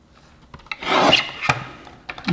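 Paper for a Halloween gift box is cut with a brief rasping swipe that peaks in the middle, followed by a couple of short clicks and rustles at close range.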